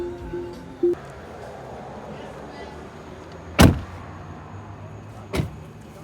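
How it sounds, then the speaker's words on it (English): A Tesla's power windows lower with a short motor whine inside the car, followed by two loud, sharp clunks a couple of seconds apart. "Oh, the windows done went down."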